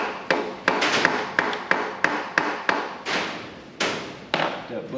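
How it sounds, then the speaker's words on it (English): A nylon soft hammer taps a bushing down onto a sleeve during motorcycle handlebar work on a 2014 Harley Ultra Limited, giving about a dozen sharp, evenly spaced taps, close and fairly loud. "use a soft hammer, like this one here. I've got a nylon one. I'm going to tap that bushing down onto that sleeve."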